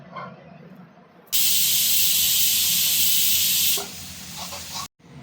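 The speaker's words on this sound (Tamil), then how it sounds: "இப்போ நம்ம குக்கர் விசில் போட்டுடலாமா?" A home pressure cooker whistles on a gas stove, a loud, sustained hiss of escaping steam for about two and a half seconds, then a weaker trailing hiss that breaks off abruptly.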